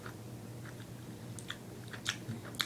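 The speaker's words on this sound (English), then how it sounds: "I'm just going to chew them all up." Soft, close chewing of Ocean Spray fruit snacks candy, with faint irregular bites and squishy mouth sounds over a quiet background, no talking.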